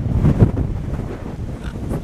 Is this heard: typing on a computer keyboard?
no